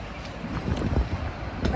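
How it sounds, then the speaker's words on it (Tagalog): Strong wind gusts buffet the microphone outdoors on a street in Japan, a low rumbling roar that swells and dips continuously with no speech. "Paano masyado mahangin to eh."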